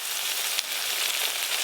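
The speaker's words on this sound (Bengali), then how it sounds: "এবার ভেজে রাখা বেগুনগুলো দিয়ে দেব" Fried eggplant tipped into a hot pan with poppy seeds gives a steady, loud, close hiss of sizzling oil with one small clatter, no voices.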